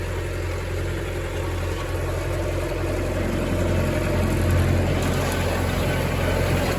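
A tractor engine runs steadily in high range second gear at lower RPM while baling hay, a continuous low drone with constant loudness and no talk over it.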